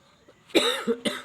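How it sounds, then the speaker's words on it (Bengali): Two or three sharp, close coughs in quick succession from a person with a cold, after a brief quiet moment, each a harsh burst with a raspy tail. "কাশি হচ্ছে।"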